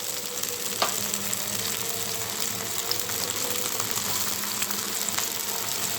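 Long plantain pieces go into a pan of lightly fried onions, giving a steady close sizzle with a few faint clicks of stirring throughout.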